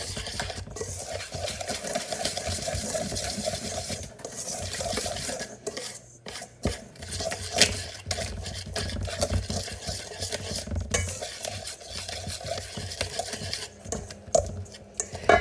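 Unsweetened cocoa powder is stirred into keto brownie batter in a bowl, giving a steady, continuous scraping and swishing that runs throughout, with a few brief pauses and no talking.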